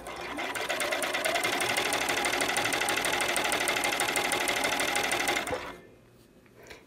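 A sewing machine runs a quarter-inch seam on knit fabric for an enclosed gusset, loud and steady with a fast, even stitching rhythm for about five seconds before stopping abruptly.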